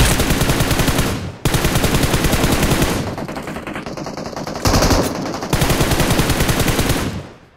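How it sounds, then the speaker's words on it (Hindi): SCAR rifle fire in a video game, rapid automatic bursts rattling loud and close, with long sustained strings broken by brief pauses and a quieter stretch in the middle. "पीछे सीमेंटर से एक बंदा स्कारल से फायर करता है"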